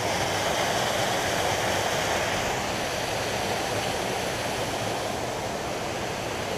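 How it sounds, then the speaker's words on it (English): Heavy rushing water roars steadily and loudly, a dense, unbroken waterfall wash swollen after heavy rain, with no pauses or voices. "It came big rain last night, and it's got all this water rolling."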